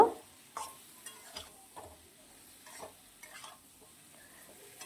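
Fried pointed gourd and potatoes cooking with spices in a pan, a faint sizzle beneath a series of distinct stirring scrapes and taps spaced about half a second to a second apart.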